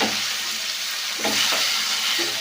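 Cut tomatoes sizzle in a hot pan with a steady hiss, joined by a few soft scraping strokes as they are stirred, close and alone without any talking.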